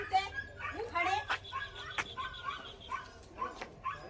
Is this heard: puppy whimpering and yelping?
yes